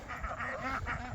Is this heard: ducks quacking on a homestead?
yes